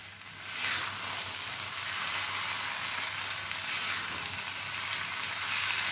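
Sabudana khichdi sizzles and fries in a pan with a steady, close crackling hiss that holds evenly throughout, with no voices.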